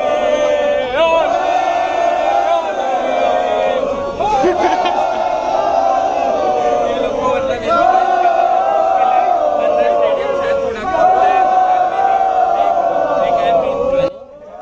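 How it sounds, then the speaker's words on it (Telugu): WWE fans shouting and chanting in an indoor stadium, a loud, dense roar of voices rising in repeated chant-like swells over and over, with no letup. "ఏం డబ్ల్యూడబ్ల్యూ ఫ్యాన్స్ అనుకుంటున్నావు ఊరు నాయన, ఏం కేకలు పెడుతున్నారా అప్ప"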